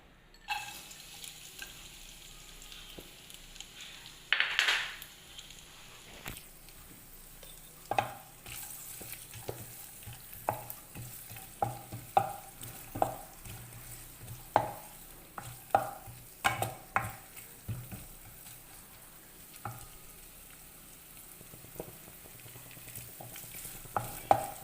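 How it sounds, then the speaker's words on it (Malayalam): Coconut pieces and sesame seeds frying in ghee in a pan for jackfruit unniyappam, a continuous soft sizzle broken by repeated scraping and stirring clatters at an uneven rhythm, close up, with no talking. "നെയ്യിലാണ് ഈ തേങ്ങാക്കൊത്തും പിന്നെ എള്ളും ഒക്കെ വറുത്തെടുക്കുന്നത്."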